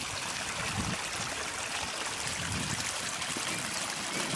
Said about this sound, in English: I'm hoping the sound of this little mini waterfall is coming through on the camera here.